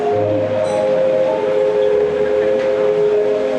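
Model trains running on layouts at a railway model exhibition, heard as a steady, continuous mechanical hum with sustained tonal whine lines, without a break, across the whole stretch.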